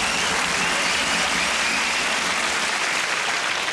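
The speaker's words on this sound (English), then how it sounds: "Give them both a big round of applause, ladies and gentlemen" A studio audience at a televised celebrity challenge game show claps in loud, sustained applause, a dense steady wash of hands that holds evenly throughout without talk.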